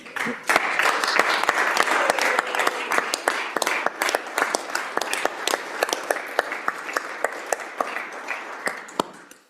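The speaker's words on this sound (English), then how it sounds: "So I'd like to give a big round of applause for our treasurer, Mark Cowan." Applause in a state Senate chamber during a floor session, a sustained round of many hands clapping that fills the room, then thins into sparse individual claps and fades out.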